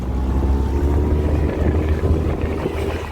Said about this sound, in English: I'm gonna give it full throttle real quick.